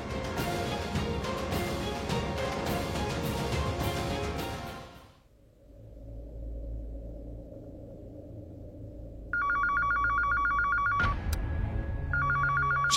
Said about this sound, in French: J'entends le téléphone fixe sonner.